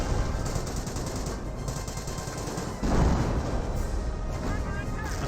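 Rocket grenades launch during a World War II battle in Company of Heroes, a dense rumble of firing and blasts under a commentator's voice, with one heavier boom standing out midway.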